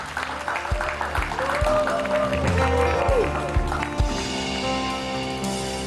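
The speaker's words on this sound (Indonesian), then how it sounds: "Tepuk tangannya buat Mbak Ruby aja dong" Studio audience applause on an Indonesian variety show, a steady clapping crowd under music and a murmur of voices, fairly loud and continuous.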